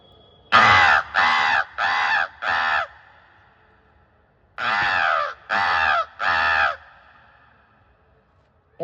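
A performer on stage imitates a crow, giving two series of harsh caws, four then three, evenly spaced, loud and close against a quiet background.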